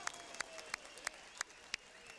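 A few sharp, evenly spaced hand claps at a boxing event before a heavyweight bout, about six distinct claps over a couple of seconds, faint and thin rather than a full crowd roar.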